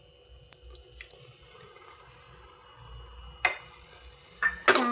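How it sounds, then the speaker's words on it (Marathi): A spoon stirs orange semolina sheera in a pan, soft scraping and muffled movement that builds into a few sharper metallic scrapes and clinks toward the end. "छान चमच्याने हलवून घेते."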